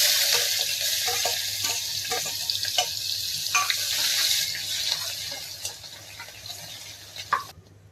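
Onion sizzles in a pan with cumin seeds and curry leaves for masale bhat, a dense close frying hiss with stirring scrapes and clicks that eases toward the end.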